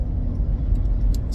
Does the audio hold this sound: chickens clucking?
no